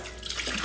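Water drains and trickles out of a Coleman SaluSpa hot tub filter, a brief close splashing pour.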